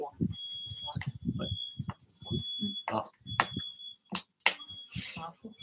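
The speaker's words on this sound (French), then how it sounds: "c'est l'alarme qui sonne, mais ça va, c'est pas dans la maison, ça doit être à côté." An alarm from a neighbouring building sounds as a steady high electronic tone in repeated bursts, partly masked by people talking nearby.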